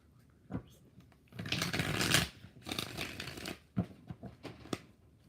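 A deck of tarot cards is riffle-shuffled close by in a few quick bursts, each a crisp fluttering rush, followed by lighter taps and card handling with no speech.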